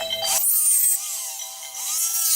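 A rotary tool whines at high pitch as it trims around a pressure-formed plastic blank, a steady close buzz that dips and rises as the cut moves along the edge.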